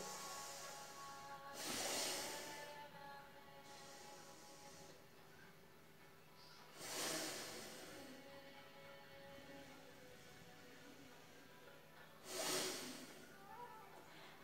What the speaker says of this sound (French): Procédez à 3 grandes et longues respirations.